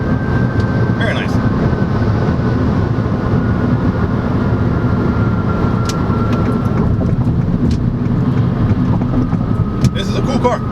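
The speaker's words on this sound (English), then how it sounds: "Let's check out some passing power." A 2022 Mini Cooper S Hardtop 4 Door accelerating to pass, heard from inside the cabin as a loud, steady engine drone with road and wind rumble throughout.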